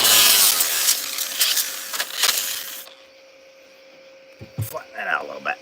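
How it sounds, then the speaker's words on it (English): A small handheld grinder rasps loudly and close for about three seconds while grinding welding spatter off a steel joint, then cuts out, leaving a low hum under brief speech. "This is where that little grinder comes into play."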